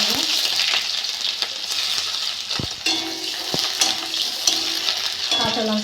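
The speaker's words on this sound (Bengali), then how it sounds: "আমি এবার পেঁয়াজ দিয়ে দেবো।" Onions frying in hot mustard oil in a wok with panch phoron spices, a steady loud sizzle with occasional stirring clinks and scrapes throughout.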